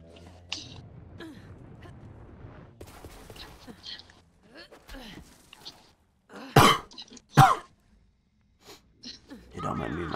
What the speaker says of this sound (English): You don't mind me in my cough.